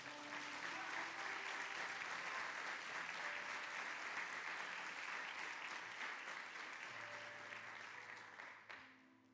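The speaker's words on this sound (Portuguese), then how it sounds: "Dá um aplauso a Jesus." A church congregation breaks into sustained applause, a dense wash of clapping that holds steady for several seconds before tapering off, heard from within the room with no talking over it.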